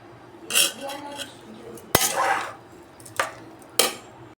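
A metal spoon stirs chilli powder and salt into a pot of fig-based kootu, clinking and scraping against the vessel in several separate strokes, close and fairly loud.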